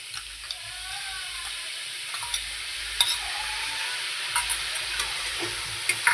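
Chopped tomatoes frying in a pan for Mumbai-style pav bhaji give a steady, broad sizzle and hiss, with occasional stirring scrapes and clicks over it and no talking.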